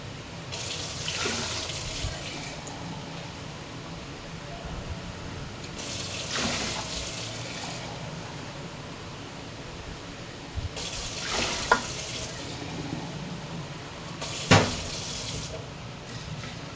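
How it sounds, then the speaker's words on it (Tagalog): Water runs steadily from a kitchen tap to rinse rice, a continuous close hiss and splash that swells in bursts as the pot fills, with a couple of light clinks near the end. "Tatakalin ko yung tubig."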